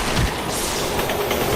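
A train rumbles past in a video game, a loud, dense, continuous roar with faint rhythmic rail clatter, steady throughout the short stretch.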